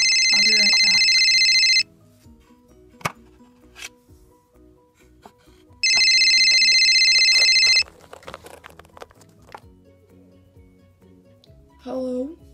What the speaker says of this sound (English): Oh, my phone's going off.